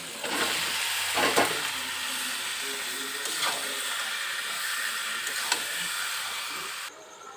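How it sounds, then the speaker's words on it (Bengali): Chicken sizzles and fries in spice masala in a pan for hachari chicken, a steady loud hiss with a few stirring scrapes and bursts, continuous with no talk. "মশলা ভালোভাবে কষিয়ে নিয়েছি ওপর থেকে মাংস দিয়ে দিচ্ছি"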